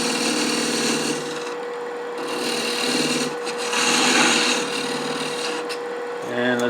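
A wood lathe spins steadily with a constant tonal whine while a tool bites into the base of a hollow globe ornament during parting off, a close, continuous rasping scrape with slight swells in intensity and a brief change at the end.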